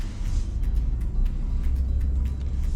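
A 2015 Ford F150 EcoBoost Crew Cab pickup cruises along with a steady low engine rumble and road noise, the sound close and continuous with faint clicks on top, no voices.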